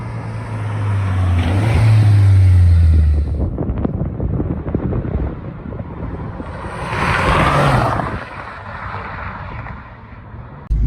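A Renault Sport 4S car on a test drive with a friend, its engine droning low and rising in pitch under heavy wind rush, fading and swelling again as it accelerates, loud and close with no talk.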